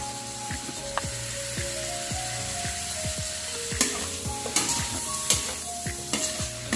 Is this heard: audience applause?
no